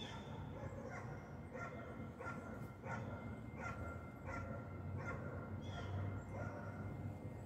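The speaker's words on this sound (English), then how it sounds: "You hear the neighborhood noises this morning. The neighborhood dogs." Neighborhood dogs bark in the morning, a regular series of about seven or eight barks spaced roughly every half second to second, somewhat distant over a low steady background hum.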